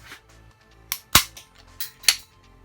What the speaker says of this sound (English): which is a staple gun